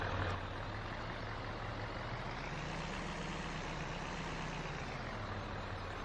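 A Duramax engine in a GMC 2500 pickup truck from Farming Simulator 17 drones at a steady low idle, a loud, constant rumble with a faint shift in pitch midway and no talking.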